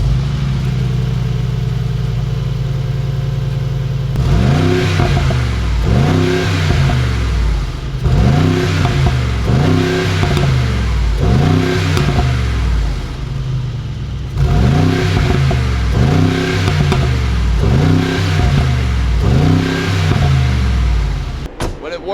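A Mercedes G-Wagon twin-turbo V8 fires up and settles to idle, then is revved repeatedly in steady rising-and-falling pulls, loud and close throughout.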